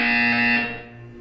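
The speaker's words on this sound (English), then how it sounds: "You will hear a buzzer." Test chamber buzzer from the Portal 2 video game: a single loud, steady electronic buzz with bright harmonic tones that holds for about half a second, then fades away.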